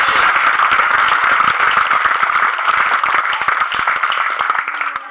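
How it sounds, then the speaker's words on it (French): Sustained applause from a circus tent audience, dense clapping filling the whole stretch at steady loudness, tapering slightly at the end. "Lali, qu'on peut applaudir."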